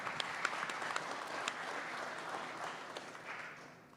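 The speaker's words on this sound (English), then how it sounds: "Round of applause for Oscar." Faint, steady applause from a boxing press conference audience, a soft even patter of clapping that fades slightly toward the end.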